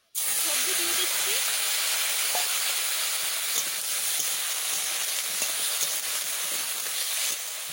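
Vegetables dropped into hot oil for a fish and cauliflower curry sizzle loudly and steadily after a sudden onset, a bright continuous frying hiss with faint scrapes and stirring clicks.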